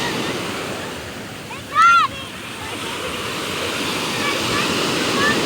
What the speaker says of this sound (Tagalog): Ang lawak ng karagatan.